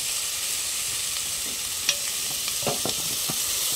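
Mutton paya masala fries and sizzles in a pan while a spoon stirs it, giving a continuous close hiss broken by several sharp scraping clicks.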